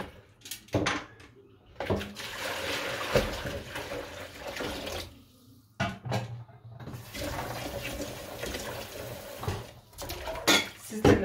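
Dishes, pots and pans are washed under running tap water in a kitchen sink, with steady splashing, clinks and clatters of cookware, and brief pauses where the water stops.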